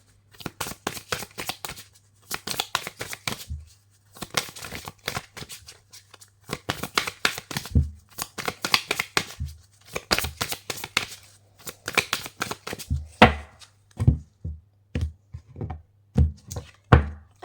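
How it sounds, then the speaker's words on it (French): Oracle cards shuffled by hand in steady bursts of crisp riffling and flicking, with soft taps and thuds as the deck is squared between rounds, close and clear with brief pauses. "je vais bien mélanger les conseils pour la nouvelle lune du 1er novembre"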